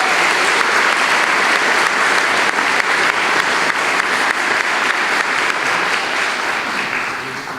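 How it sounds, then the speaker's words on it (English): An audience at a scholarship ceremony gives a sustained round of applause, dense and even clapping that holds steady and tapers slightly at the close. "please thank them for their generosity with a big round of applause for their care"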